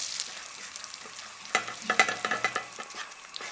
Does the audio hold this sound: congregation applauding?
no